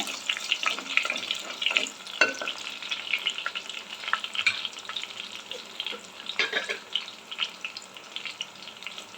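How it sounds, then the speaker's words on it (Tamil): Green chillies fry in oil for a Tamil fish curry, giving a soft, continuous sizzle with scattered scrapes and clinks as they are stirred in the pan; no one speaks. "பச்சை மிளகா கொஞ்சம் நல்லா வதங்கியிருக்கு"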